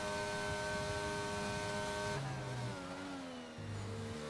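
A Ferrari race car engine in a racing game on the Belgium circuit, a steady high-pitched whine at constant revs that shifts down abruptly partway through, heard alone without talk.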